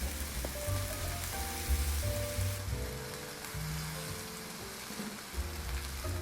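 Green beans sizzle steadily in a hot frying pan, a continuous crackling hiss with faint stirring clatter, close and alone with no talk.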